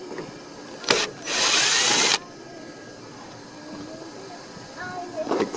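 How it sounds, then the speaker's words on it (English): A small power drill backing a screw out of a pool cover, one short whirring burst of under a second between clicks and quiet handling noise outdoors. "get a little drill, take the screw out"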